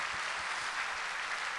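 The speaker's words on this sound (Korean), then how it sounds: "네, 박수하겠습니다." A church congregation applauds to welcome newcomers during a Sunday service, with a brief burst of steady, massed clapping filling the sanctuary at moderate distance.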